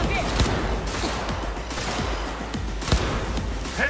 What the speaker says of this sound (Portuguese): Ó, o tiro.